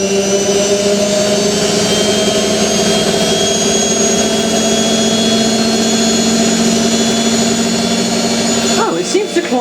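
A Hotpoint 9530 washing machine motor fitted with new carbon brushes spins up with a steady, loud whine and hum that holds for about nine seconds before cutting off abruptly.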